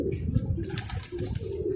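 Pigeons coo softly in low, rounded, repeating calls, faint and somewhat distant over a steady background hum, with no talk.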